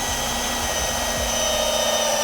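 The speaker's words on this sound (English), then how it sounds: "I'm just going to drill through this carefully." A power drill whirs steadily as it bores through a plastic frunk panel of a Tesla, a continuous high buzzing whine with no talking.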